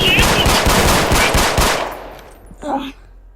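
Rapid bursts of automatic gunfire in a Roblox game, loud and close, rattling for a couple of seconds before cutting off, followed by a brief faint electronic sound.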